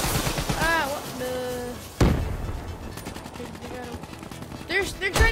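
Call of Duty Black Ops III multiplayer gunfire on Xbox One: a sharp shot and scattered bursts crackle through the match, mixed with game music tones and effects, fairly close and moderately loud.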